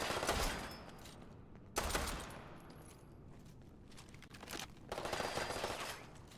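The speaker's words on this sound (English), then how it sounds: "it's an auto pistol" Bursts of auto pistol fire in the Fallout 4 video game, rattling out in three separate volleys: a short one at the start, another about two seconds in, and a longer stretch near the end, with quieter gaps between them.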